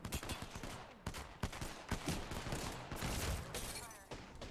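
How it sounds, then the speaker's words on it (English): Chaotic gunfire in an Apex Legends match, overlapping shots and bursts fired in quick succession at close range, with busy game noise throughout. "Getting shot already."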